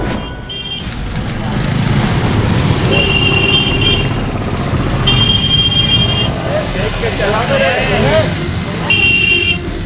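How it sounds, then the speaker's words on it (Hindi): Traffic noise with a car horn tooting several times in sustained blasts while people talk loudly nearby. "इतना देर से हॉर्न मारे, सुनाई नहीं दे रहा तुमको?"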